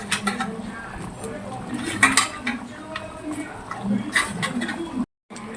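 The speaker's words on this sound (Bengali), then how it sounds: "এবার আমি পকোড়াগুলো দিয়ে দেবো।" Chili chicken pakoras go into a pan and are stirred, giving repeated metal clinks and scrapes of utensil against cookware at close range, with brief sizzling, before a short silent break near the end.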